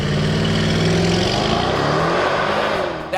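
A Mercedes-AMG W167 SUV accelerates hard from standstill, its engine note loud and close, climbing through the revs in a sustained roar with an upshift audible before tailing off at the end.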